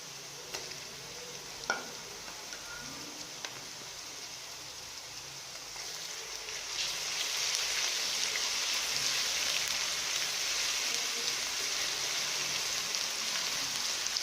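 Ginger garlic paste frying with golden-browned onions in hot oil, a steady crackling sizzle that swells louder about halfway through, with a few faint clinks early on.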